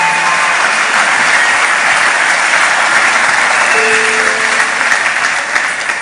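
A church congregation applauds and cheers loudly and continuously in a dense, sustained wash of clapping, with no break from start to finish.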